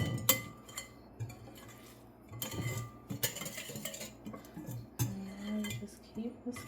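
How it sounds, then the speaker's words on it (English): Clinking, scraping strokes of a whisk in a bowl as a vegan steak marinade with thyme is mixed, close and irregular, with a faint voice murmuring in the background. "just keep whisking everything together"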